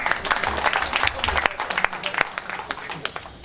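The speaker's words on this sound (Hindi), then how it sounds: "ताली बजाइए" A crowd at a Hindi stand-up comedy show claps, the sound dense and continuous at first, then thinning into scattered separate claps, with no talking over it.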